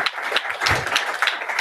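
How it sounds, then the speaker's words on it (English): Conference audience applauding a speaker at a retail event: a brief burst of dense clapping from a seated crowd, fairly close, with faint murmur underneath. "A round of applause"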